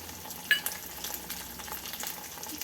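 Ripe red chillies and tamarind fry in a pan with a soft, faint sizzle and light crackle. A sharper pop comes early, then the quiet frying noise continues steadily.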